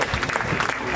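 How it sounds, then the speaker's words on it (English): Audience applause at a fundraising auction dinner, a steady wash of clapping through the room that holds at the same level from start to finish, with talk mixed in. "ladies and gentlemen, a round of applause"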